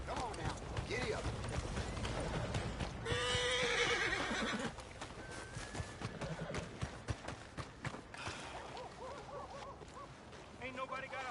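A horse in Red Dead Redemption 2 whinnies loudly and then gallops, its hooves pounding in quick rhythm under a wash of game ambience, with another whinny near the end.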